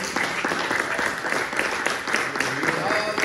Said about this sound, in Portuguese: Você pode dar uma salva de palmas ao nosso Deus.